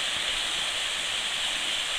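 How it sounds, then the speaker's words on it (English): Wilge River waterfall at a farm outside Van Reenen near Harrismith, a steady, even roar of falling water with broad hiss and no break across two seconds, no voices. "The waterfall."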